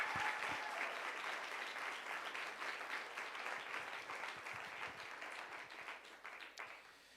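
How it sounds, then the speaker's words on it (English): An awards ceremony audience gives honorees a full round of applause, a dense, steady wash of many hands clapping that fades slightly over several seconds. The sound is moderately distant and carries no talking. "Please give them a big round of applause"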